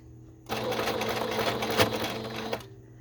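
A sewing machine stitches into crochet lace for junk journal ruffles, a close, steady rapid whirring run of about two seconds that starts and stops abruptly.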